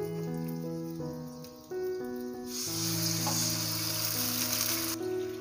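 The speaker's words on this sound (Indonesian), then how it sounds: "Lalu kita akan siram dengan air." Water splashed onto gyoza frying in an oily pan sets off a loud, sudden hiss of sizzling that swells and holds steady, over a sustained musical tone in the background.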